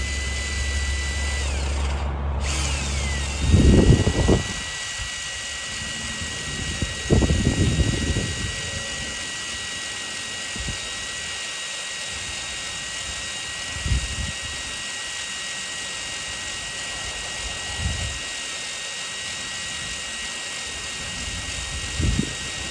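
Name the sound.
power drill boring into a metal end post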